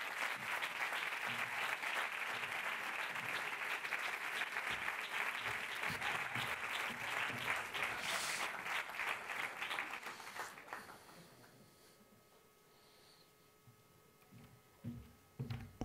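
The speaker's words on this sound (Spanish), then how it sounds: "Un fuerte aplauso otra vez." Audience applause at a film festival closing gala fills the hall with steady, dense clapping for about ten seconds, then thins out and fades to a quiet room with a few scattered sounds.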